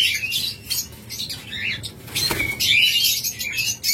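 A pair of lovebirds chirps in bursts of high, scratchy twitters with short gaps between them, close by, with a faint flutter and light rustling partway through.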